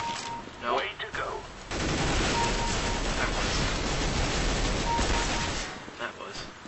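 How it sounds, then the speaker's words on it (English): Gunshots in Counter-Strike: Global Offensive, a dense stretch of loud gunfire lasting several seconds with sharp onsets, with game noise before and after. "I gotta go in burst fire and then just headshot people"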